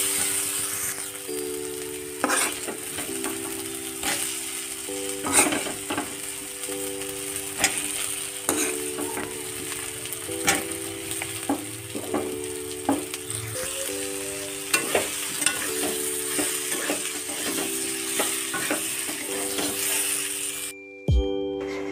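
Jackfruit pieces frying in a spice paste in a home kitchen, a continuous sizzle broken by regular scraping and clinking stirs of a spatula against the pan, with a background musical tone.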